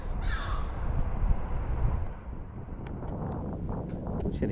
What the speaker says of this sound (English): these seagulls are doing me nothing